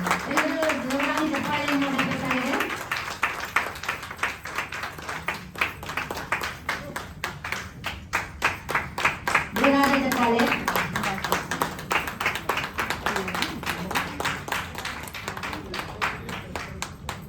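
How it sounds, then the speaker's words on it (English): Rhythmic group hand clapping at an event, quick even claps repeating steadily throughout, with voices speaking and chanting over the beat at times. "Clap, clap."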